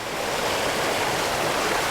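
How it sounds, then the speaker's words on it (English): A waterfall flowing back through trees near Bastion Cascades, a steady, even rushing of falling water at moderate level, continuous and without voices. "back through the trees over there, there's another waterfall flowing"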